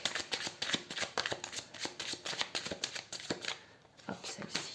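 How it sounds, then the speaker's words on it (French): Oracle cards being shuffled and drawn during a reading, giving a steady run of crisp riffling and flicking bursts close by, with a short pause near the end and no talking. "On va reprendre une autre carte."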